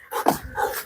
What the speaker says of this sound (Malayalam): ഓ ഇവിടെ ഒരു പട്ടി ഉറപ്പുണ്ട്